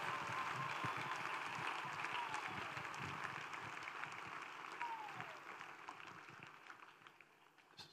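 A church congregation at a prayer and intercession service claps together for Jesus, a busy crackle of many hands that gradually thins and fades toward the end, with some crowd voices mixed underneath.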